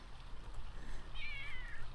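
Cat meowing in The Sims 3, a single drawn-out wavering meow rising over a low background hum, fairly quiet.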